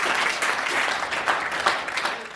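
A hall audience at a Hindi satirical poetry show applauds Pradeep Chaubey with dense, sustained clapping that stays loud throughout, with the crowd murmuring faintly underneath.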